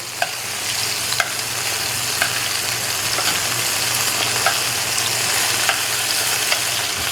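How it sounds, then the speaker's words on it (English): A steady, close crackling sizzle of chicken pan frying in hot olive oil, with occasional light clicks from a utensil. "Sizzling hot. So basically pan frying this in the olive oil."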